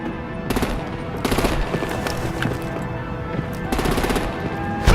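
Automatic gunfire from an action scene in Batman: The Enemy Within, with repeated loud bursts of rapid shots over a constant rumbling din.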